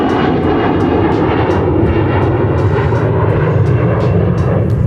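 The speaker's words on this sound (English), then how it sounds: "Little private jet going over." A small private jet roars steadily overhead after taking off near an airport, its loud broadband engine rush filling the whole stretch with no voices on top.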